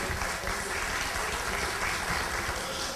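Audience applause at a talk on Indonesian politics and economic self-reliance, a steady dense wash of many hands clapping at even loudness throughout, with no voices standing out.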